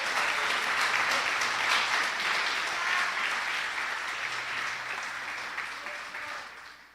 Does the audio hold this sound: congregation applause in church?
yes